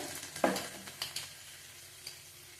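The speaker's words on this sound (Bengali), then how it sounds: "ভালো করে নেড়ে চেড়ে ভেজে নিয়েছি আর আলু সিদ্ধ হয়ে গেছে, ভেন্ডিও সিদ্ধ হয়ে গেছে।" Okra and potatoes stir-fry in a pan, giving a faint sizzle broken by a few soft scrapes and clinks from stirring.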